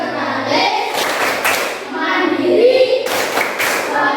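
A classroom of children performing the rhythmic Tepuk PPK clap, with bursts of patterned hand claps between stretches of chanting kids' voices.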